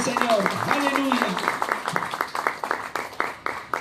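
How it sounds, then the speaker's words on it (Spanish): Church congregation clapping for the Lord during a worship service, a loose crowd applause of scattered hand claps with a voice speaking and sustained tones over the opening seconds. "Den un aplauso al Señor bien fuerte."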